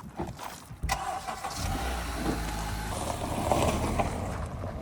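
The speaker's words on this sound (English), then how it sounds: "Now I'm gonna move these Cadillacs around." A Cadillac car at a dealership starting up with a short cranking burst, then settling into a steady low idle and rumble as the car is moved, close and continuous throughout.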